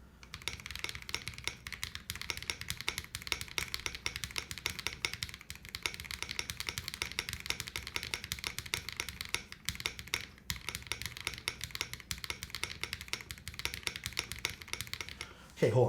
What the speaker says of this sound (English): I also want to just try a GMK spacebar just to see if there's a variance in sound there.